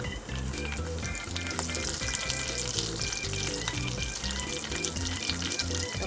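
Mustard and cumin seeds crackling in hot oil while stuffed capsicum is being prepared, a loud, dense, continuous spitting sizzle over a low, steady humming tone.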